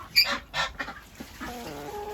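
Chickens cluck in a straw-lined polytunnel flock house. Several short, fairly close clucks and squawks come in a loose rhythm, with softer chatter behind them.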